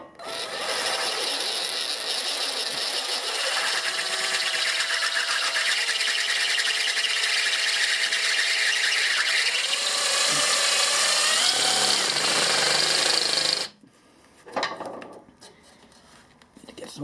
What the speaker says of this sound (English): Need to get some more pressure on the back of the drill.